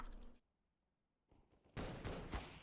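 Gunfire in Counter-Strike: Global Offensive, with a short burst, a quiet gap, then a heavy rapid volley of automatic shots, loud and close.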